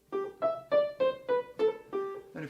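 Short, detached notes on a fortepiano in a Beethoven rondo, about eight clipped tones in a steady sixteenth-note stepping line, each with a quick attack and fast decay, played alone and close.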